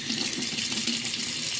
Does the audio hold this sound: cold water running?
yes